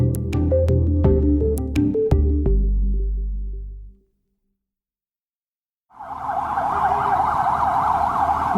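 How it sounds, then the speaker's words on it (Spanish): A few seconds of music fade into silence, then a loud wailing air-raid siren in Gaza rises and falls continuously until the end. "en el vídeo donde se escucha esa sirena"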